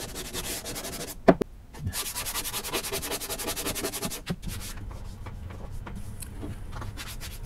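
Close, rhythmic rasping of sandpaper rubbed back and forth over wood by hand, with a couple of brief pauses and knocks.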